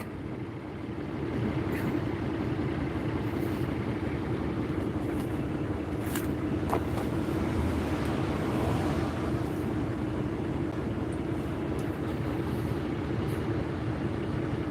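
A tractor engine drones in a steady low rumble continuously at moderate loudness, with no talking over it.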